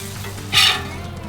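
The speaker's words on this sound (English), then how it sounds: "Now we're gonna add our butter right to the bacon fat and then put our beautiful sandwich right down into both." A bacon grilled cheese sandwich is set down in butter and bacon fat on a Blackstone griddle, giving a sudden burst of sizzling that swells briefly, then settles into a faint steady fry.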